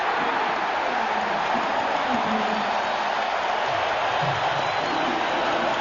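A basketball arena crowd at the 1997 NBA Finals, Game 2, Utah Jazz at Chicago Bulls, keeps up a dense, steady roar of cheering, with a voice faintly audible over it.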